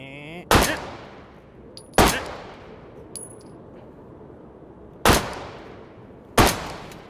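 Gunfire in the virtual reality game H3VR: five loud, sharp single shots spaced irregularly a second or more apart, each with a short ringing decay, with a faint metallic click between them and no talk.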